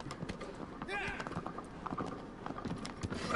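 Horse hooves clip-clopping in the video game Shadow of the Colossus, quick repeated galloping beats at moderate volume, heard alongside people talking.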